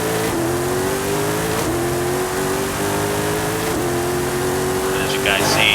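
A race car in Forza Horizon 5 launches from a roll and accelerates, its engine rising in pitch through quick, back-to-back gear shifts, loud and close, with a voice talking over it.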